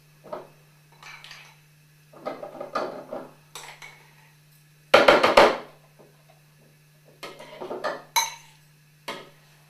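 115 grams of butter goes into a mixing bowl for a lemon cake, with sparse knocks and clatters of utensil against bowl and one louder burst of scraping and thudding midway, close by and without speech.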